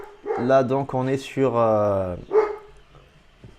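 A nearby dog barks and whines in several loud, pitched yelps that overlap someone speaking French, then the animal falls quiet as the talk goes on.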